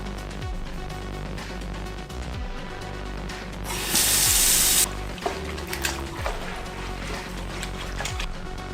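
Water runs steadily from a tap while a mouse pad is scrubbed under it, a continuous close splashing hiss with a brief louder gush in the middle and no talking.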